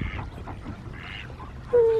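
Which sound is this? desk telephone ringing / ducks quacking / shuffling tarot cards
ducks quacking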